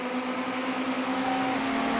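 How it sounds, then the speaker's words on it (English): Ferrari race cars lap Daytona in the iRacing simulator, their engines a loud, steady, high droning whine with a sustained tone that shifts slightly in pitch. "Haderman and Moore together in the two Ferraris."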